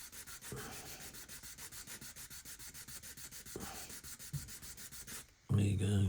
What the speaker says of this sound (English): sanding down the odd knobs.